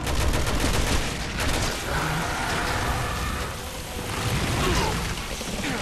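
Sustained gunfire in the Resident Evil 6 game during a train wreck fight, dense and loud with rapid overlapping shots and clatter throughout, no clear talk.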